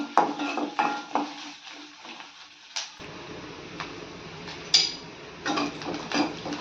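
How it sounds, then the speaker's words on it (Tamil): Onion and curry leaves being sautéed in hot oil for a brinjal curry, with irregular clinks and scrapes of a utensil against the pan, moderately close, with quieter stretches between the bursts of stirring. "இப்போ நம்ம வெங்காயம் கருவேப்பிலை எல்லாம் போட்டுக்கலாம் நம்ம நல்லா வதக்கிக்கலாம்"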